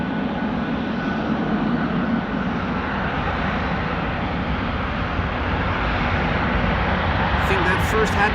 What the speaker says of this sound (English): Thought I heard a piston engine